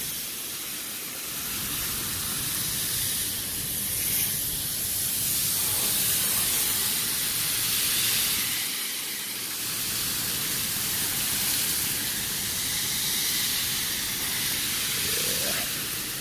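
Chemical coil cleaner sprayed onto a wet HVAC coil, a steady broad hiss of spray running continuously at close range with slight swells, no talking over it.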